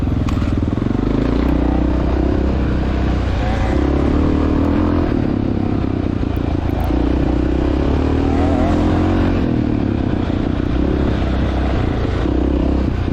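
A 1993 Honda XR600R thumper drones steadily through a motocross race, its engine loud and close, with other bikes revving and clattering around it the whole time.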